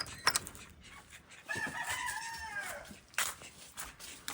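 Laying hens of mixed breeds in a barn pen cluck and squawk nearby, with a drawn-out rising-and-falling call in the middle and scattered sharp clucks around it, faint but clear.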